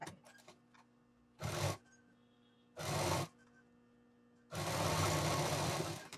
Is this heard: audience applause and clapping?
no